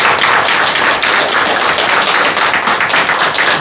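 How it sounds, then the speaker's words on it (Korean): A Korean church congregation claps loudly and steadily, a thick, continuous roar of many hands close by with no talking over it. "박수로"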